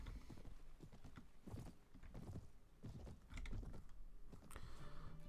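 Horse hooves clip-clop in the Mount and Blade: Warband Viking Conquest game as riders move through a village, irregular clusters of hoof strikes with faint creaks, fairly quiet and without voices.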